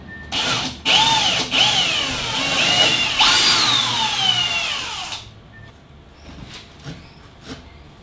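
A cordless power drill whirs in several bursts, driving bolts into a DIY 4WD drawer system built with pocket joints, its pitch rising and falling as each bolt seats, then quieter clicks and handling noises.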